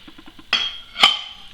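Metal camping cookset pots and lids, a small frying pan and two pots each with its own lid, clink together: a few light taps, then two sharper ringing metallic clanks close by.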